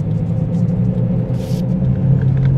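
A car in fourth gear on a road, accelerating gently with its wheels spinning, heard as a steady low engine rumble and road noise with no talk.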